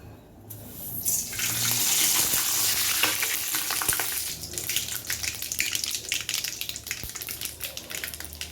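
Mustard seeds, fenugreek and curry leaves crackle and sizzle as they hit hot oil, a loud frying hiss that settles into steady popping and spitting.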